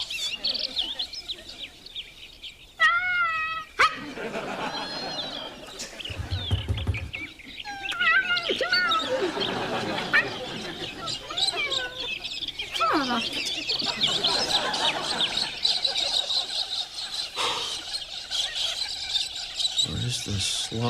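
A man imitates the call of a sloth with squeaky, chirping, meowing vocal noises, a long warbling run of squeals and whoops with shifting pitch, fairly loud and close.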